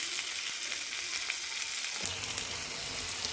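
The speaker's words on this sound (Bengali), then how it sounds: "কাঁচা লঙ্কা ফোড়ন দিলাম আর সব দিলাম" Green chilies hit hot oil for tempering, a steady crackling sizzle throughout, with a deeper bubbling layer rising partway through as more goes into the pan; no voices.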